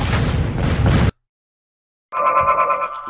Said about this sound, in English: Sound of fireworks.